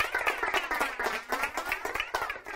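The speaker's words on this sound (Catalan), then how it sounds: "Un aplaudiment." Audience applause for two school teams at the end of a Catalan quiz show, a dense, steady clapping from many hands that carries on without a break.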